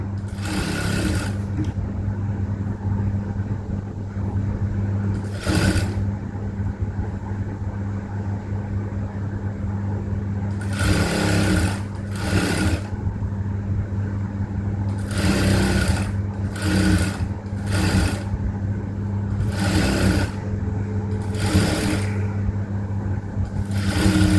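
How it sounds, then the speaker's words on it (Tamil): A sewing machine stitches a blouse in steady, loud, close whirring runs that start and stop repeatedly, with brief pauses between bursts and no voices. "அதே மாதிரி இன்னொரு தையல் போட்டுக்கோங்க."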